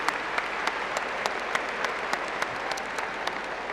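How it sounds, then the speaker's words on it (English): Commencement crowd at UNI's spring graduation applauds the new graduates, a dense, steady roar of clapping with a few sharp claps standing out close by. "please stand and applaud the newest members of our UNI alumni community"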